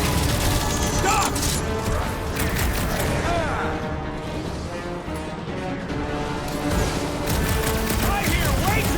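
Dense gunfire and crashing combat effects from the video game Guardians of the Galaxy, set aboard the Milano, run continuously and loud under game music, with voices talking over the battle.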